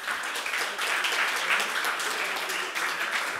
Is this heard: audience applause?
yes